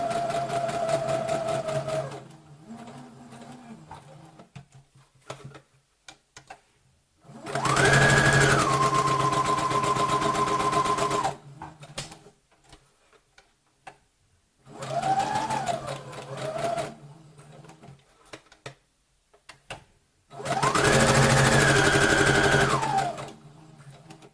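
A sewing machine stitches fabric for a decorative DIY Christmas tree, running in several loud bursts of steady whirring separated by quiet pauses, with the motor pitch shifting between runs.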